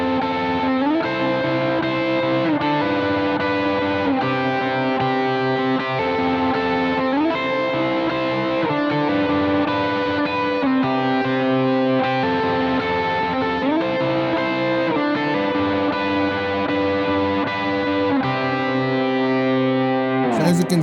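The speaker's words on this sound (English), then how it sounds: "if I just do that with Diads again, like I've shown you before, it'll sound something like this" Electric guitar playing worship-style diads through effects pedals with distortion and reverb, a steady sustained chordal pattern that shifts every couple of seconds, loud and continuous with no talking.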